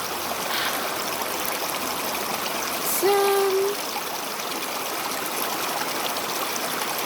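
Water from a small stream runs down over rocks into a pool, a steady close rushing trickle that continues unbroken, with a brief tonal chirp briefly rising above it.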